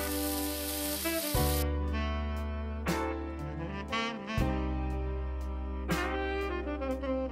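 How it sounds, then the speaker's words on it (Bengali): Water poured into a hot pan with sardines and eggplant gives a loud, hissing sizzle that bursts at the start, then drops back under steady tonal music. "এবার আমি পরিমাণ মতন জল দিয়ে দেবো।"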